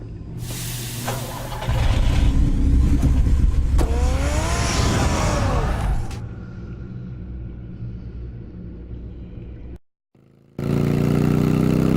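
Batmobile engine from a Batman video game revs loudly for several seconds, then settles into a lower steady rumble, cuts out briefly, and returns with a sustained idle hum.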